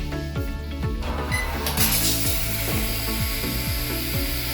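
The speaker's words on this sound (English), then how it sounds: "hotel has a toilet that opens itself, heats itself, cleans itself" A hotel's automatic toilet lid lifts by itself with a steady motorized whir and repeated ratcheting mechanical steps, close and continuous for several seconds.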